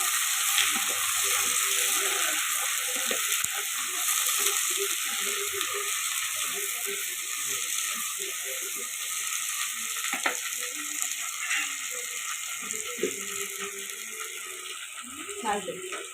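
Curry leaves and onion fry in a pan with a constant loud sizzle, and occasional stirring scrapes and clinks sound over it.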